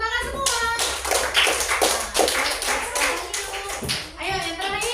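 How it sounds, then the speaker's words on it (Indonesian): Children in a grade 2 classroom clap their hands together in a quick burst of loud, uneven claps, with young voices talking and calling out around the clapping. "Iya, tepuk tangan semua."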